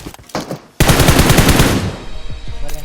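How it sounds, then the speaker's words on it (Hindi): Automatic gunfire in the BGMI battle royale game, a couple of short shots followed by a loud, rapid sustained burst lasting about a second before tailing off into scattered sounds. "मुझे सामने की तरफ से फायर शॉट आता है"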